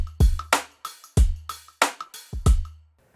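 Drum pattern programmed on a 1010music blackbox sampler from one-shot samples on the pads: booming kicks alternate with sharp snare-like hits in a short, steady loop, close and clear.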